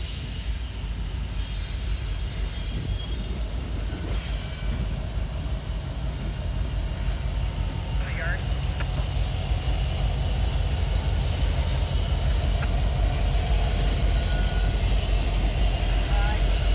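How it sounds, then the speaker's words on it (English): Freight train being built in sections at Ayer Hill Yard, a steady low rumble of rolling railcars with occasional squeals and clanks, continuous and moderately close. "B101 must put their train together in sections before departure"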